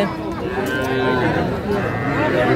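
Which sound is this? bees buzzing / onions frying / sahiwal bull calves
sahiwal bull calves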